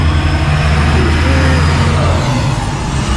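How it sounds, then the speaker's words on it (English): Heavy trucks roll past on a highway beside a truck stop or weigh station, a loud continuous diesel rumble with deep low drone and broad road roar filling the whole stretch. "Loud ass trucks."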